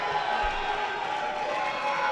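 Crowd at a live pro wrestling show cheering, a broad, sustained roar of many voices heard at a distance and holding steady throughout.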